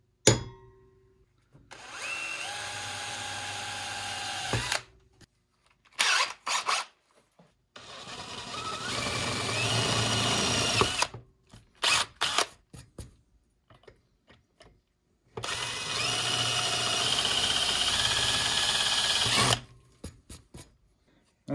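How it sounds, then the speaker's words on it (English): A power drill bores a hole through a ham radio antenna radial in three long, steady whining bursts, each lasting several seconds, with short clicks and handling noise between them. "Now we're gonna get this hole drilled in it."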